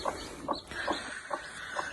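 Chickens on a small farm cluck softly in a regular rhythm of short calls about every half second, fairly faint and close, alone without talk.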